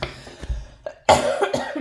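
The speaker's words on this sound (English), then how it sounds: "my apologies in advance for coughing" A few harsh coughs up close, short bursts separated by brief pauses, ending in a louder raspy cough.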